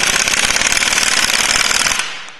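A VW Lupo suspension spring is compressed during a lowering job with a loud, rapid, hammering rattle, like an impact tool, that runs for about two seconds and then stops abruptly.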